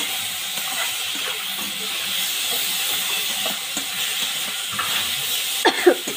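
Chopped tomatoes sizzling in a hot pan give a steady, loud frying hiss throughout, with a few faint clinks and scrapes near the end.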